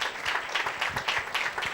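A church congregation at a worship service gives a short burst of dense, continuous applause, fairly close and steady throughout.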